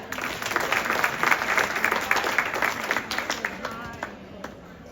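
Audience applause fills a middle school sixth grade awards ceremony, steady clapping from many hands lasting the whole stretch and tapering slightly near the end.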